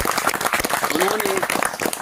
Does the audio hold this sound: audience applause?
yes